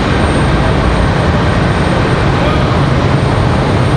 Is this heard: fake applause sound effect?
no